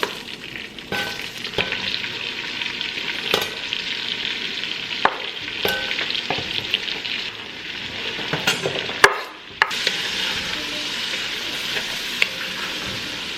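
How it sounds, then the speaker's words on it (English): Onions sautéing in a pan for a Christmas dinner, sizzling steadily throughout with intermittent scraping and stirring clicks, a brief dip near the middle before the frying hiss resumes. "while I'm sauteing these onions"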